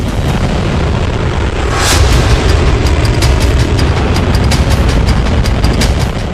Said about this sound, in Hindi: इतने पर भी मिसाइलों के नॉन स्टॉप ब्लास्ट किए जा रहे हैं।